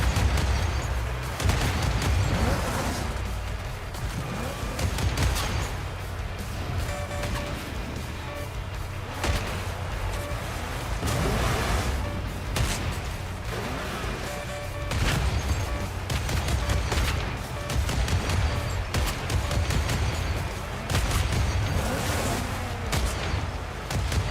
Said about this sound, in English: Did they just shoot at their own homie?